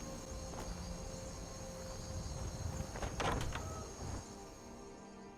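In Skyrim, a dungeon door creaks and slides open with a short scraping burst in the middle, heard faintly against a low ambient hum and insect-like drone.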